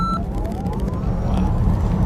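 A Tesla Model S Plaid four-door sedan launching hard down a quarter-mile drag strip, a steady broadband electric whine with rising motor tones over continuous road and wind roar, loud and close.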